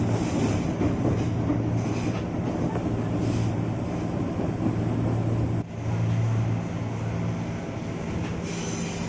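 A KRL commuter train runs slowly just after leaving Manggarai station, heard from inside as a loud, steady rumble of wheels on rails with a low motor drone and faint squeals.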